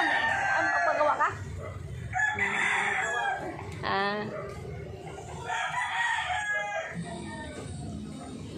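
Roosters crow several times nearby while hens cluck in the background, with faint voices mixed in.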